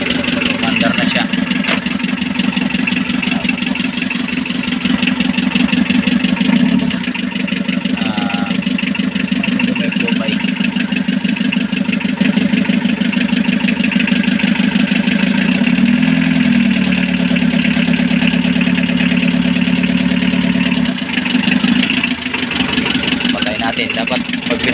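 A car engine with a wiring fault idles steadily throughout, a loud, close, continuous hum with a low drone and no breaks.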